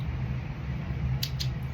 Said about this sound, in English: I cut the yarn.